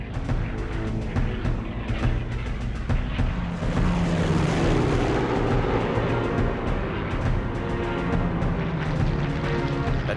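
British fighter aircraft engines roar as squadrons scramble during the Battle of Britain: a dense, loud, continuous drone that swells with a passing sweep near the middle and holds steady to the end.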